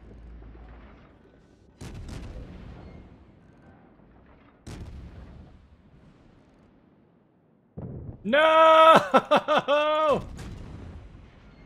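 A warship's rear gun fires in World of Warships, with a couple of sharp, separated booms and rumbling tails, followed by a loud shouted voice near the end.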